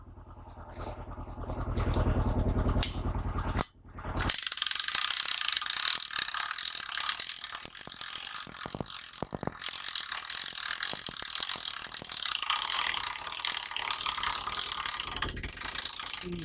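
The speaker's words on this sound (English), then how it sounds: "Crank this sucker right back up." A ratchet jack is cranked back up outdoors in snow, producing a loud, fast and continuous mechanical clicking that runs for several seconds after a brief pause.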